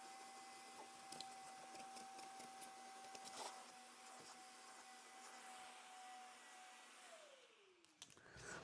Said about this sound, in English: We're going to vacuum, we're going to clean them